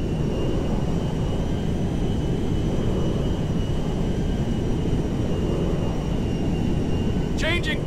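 A Meriwether cargo jet landing in GTA V, a steady, loud, broadband jet roar that holds without letup, with a brief voice at the very end.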